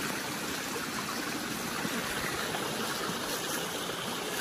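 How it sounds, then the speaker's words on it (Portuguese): Stream water rushing steadily through a farm near Gerês in northern Portugal, a dense continuous broadband wash with no pauses, close and fairly loud, heard alone. "Como vocês podem ver, é muita água mesmo."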